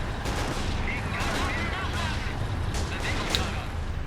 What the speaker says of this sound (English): Got more rocket artillery going off, taking out the Soviet troops in the trenches.